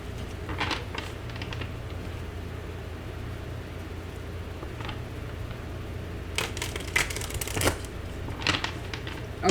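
Tarot cards being shuffled by hand give a steady papery riffle and patter, with louder bursts of rapid flicking later on, close to the microphone and with no talking.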